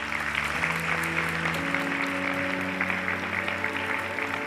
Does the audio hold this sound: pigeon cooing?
no